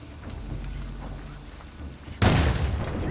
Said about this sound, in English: Finally, one's gonna throw a bomb